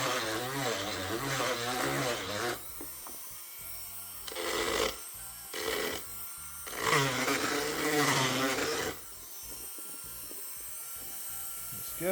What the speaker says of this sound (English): we're going to take my Dremel, and we're just going to kind of go around the edges here